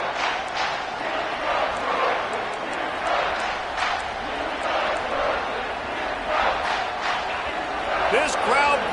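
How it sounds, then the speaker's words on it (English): A stadium crowd roars steadily at a football game against Ohio, a dense and loud wash of cheering that swells slightly near the end, with a voice talking over it. "This crowd bringing the energy and noise early."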